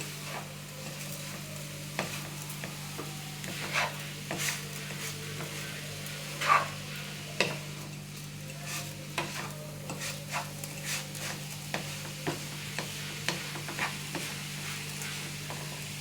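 Grated carrot with sugar and roasted semolina is stirred in a pan, giving soft, repeated scraping strokes over a faint, low sizzle, fairly quiet and with no talking.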